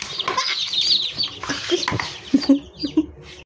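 Newly hatched chicks from a manual incubator chirp in a close, busy cluster of high peeps, with brief scuffling and a louder burst of calls near the end; no one speaks.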